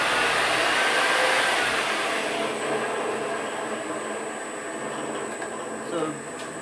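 A Monarch lathe runs at high speed in back gear, giving a steady broadband whir and hum that stays loud and even throughout.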